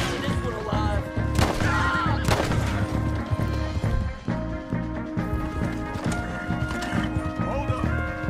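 Gunshots crack repeatedly in Red Dead Redemption 2 amid galloping horse hooves, a busy, loud mix of scattered shots over constant clip-clopping, with voices speaking in the background.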